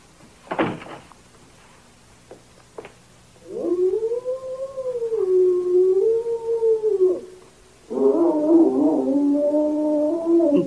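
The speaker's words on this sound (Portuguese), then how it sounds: "Um cão perdido." A lost dog howls in woods at night, heard as long wavering drawn-out howls, near and loud, after a few brief knocks at the start.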